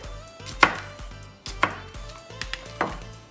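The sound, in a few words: chopping jalapeno with a knife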